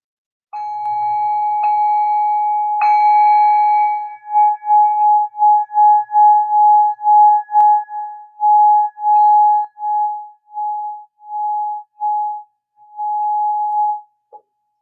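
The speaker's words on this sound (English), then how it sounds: "taking a deep breath in and listening to the tones of the bowl" A singing bowl rings out during a calming relaxation session, its clear sustained tone struck and then pulsing in a long series of wavering swells that fade into silence.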